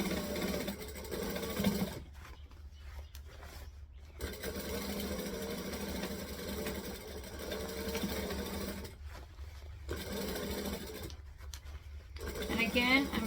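A sewing machine stitches a child's hat, its motor whirring in long steady runs broken by a few short pauses, close and even, with someone talking over parts of it.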